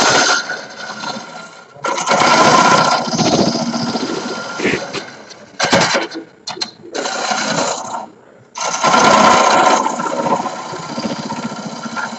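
A homemade tool with a carbide cutter turns wood on a lathe for a multi-axis Christmas tree, making loud, close, rough cutting bursts that stop and restart several times with brief gaps between them.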